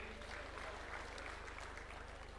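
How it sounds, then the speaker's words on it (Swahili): Audience at a political party meeting claps continuously, a dense, fairly distant wash of applause over a low background hum. "Tuwapigie makofi."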